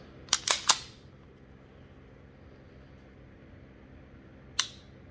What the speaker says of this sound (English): you're cocking the hammer and also firing when you get fully to the rear of the trigger. When the slide cycles,